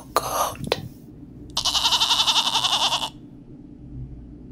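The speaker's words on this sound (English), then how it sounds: "Mythical goat." A goat lets out one loud, wavering bleat lasting over a second, preceded by a couple of short sharp sounds and followed by quiet.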